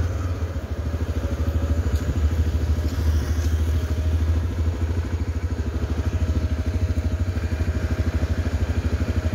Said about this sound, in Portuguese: O som da moto, da Hornet